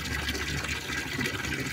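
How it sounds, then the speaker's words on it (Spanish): Water is poured into a drinking bowl for a dog, a steady gushing, splashing fill that runs continuously and fairly close, with no voices over it. "Echamos un poquillo de agua."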